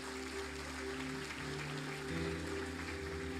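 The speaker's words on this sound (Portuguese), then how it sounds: "Aplaude a Deus, a igreja aplaude." A church congregation applauds in a continuous wash of clapping under sustained organ or keyboard chords, the clapping moderately loud and blended with the music.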